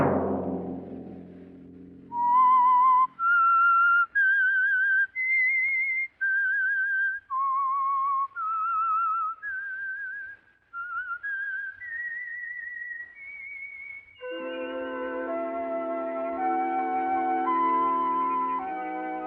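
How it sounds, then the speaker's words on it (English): A whistled theme tune for the Signal Oil radio mystery show The Whistler, a clear solo melody of rising and falling sustained notes, followed by an orchestral passage entering loudly near the end. "Let that whistle be your signal for the Signal Oil program, The Whistler"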